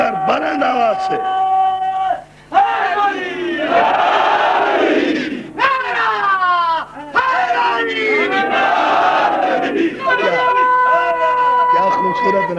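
A large crowd at a religious majlis gathering loudly chants a slogan together in repeated call-and-response waves, voices rising and falling in unison, with a lead voice calling out between the chants.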